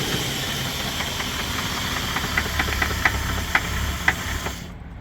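A 2001 Ford Crown Victoria with a tired fuel pump idles close by, a steady drone broken by several sharp ticks and light knocks in the middle stretch before the sound cuts off abruptly.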